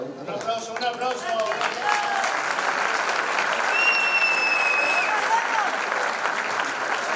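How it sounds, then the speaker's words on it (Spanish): A crowd around a university tuna performance gives loud, sustained applause, steady throughout with whistles and cheering voices rising above the clapping. "Un aplauso."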